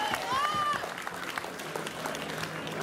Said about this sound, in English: big massive round of applause for these two gentlemen.